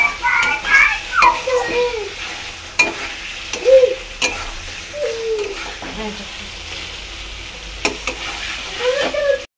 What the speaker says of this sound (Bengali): আলুটা দিয়ে দিলাম, এবার ভালো করে নেড়ে চেড়ে কিছুক্ষণ নেড়ে তারপরে জল দিয়ে দেবো।